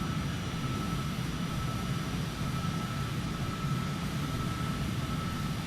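Cessna Citation CJ4 jet engines roaring steadily on a takeoff roll in Flight Simulator 2020, with wind on the runway; a constant, loud broadband roar with no talking.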